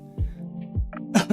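A man sneezes sharply twice in quick succession close to the microphone, with a low hum and faint background noise running underneath.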